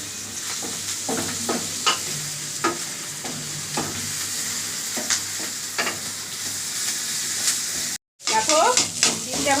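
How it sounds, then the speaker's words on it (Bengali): Egg fries in a pan for chowmein, a close, steady sizzle with repeated sharp crackles and spits, a brief dropout near the end before the loud frying resumes. "দেখো ডিমটা ভাজা চলছে"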